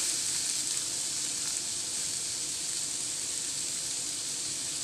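Bitter gourd pieces sizzle steadily in hot oil in a pan with popped mustard seeds, a dense, continuous frying hiss at close range with no voices.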